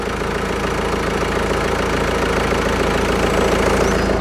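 A Mercedes-Benz E-Class engine idles under the open hood, a steady, loud, even rumble with a faint rhythmic tick, heard up close and uninterrupted, with no voices.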